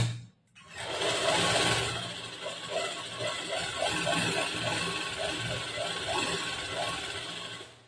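Sewing machine stitching a back-hooks blouse, running steadily in a fast mechanical rattle with rhythmic needle clicks after a brief start, close and fairly loud with no talk.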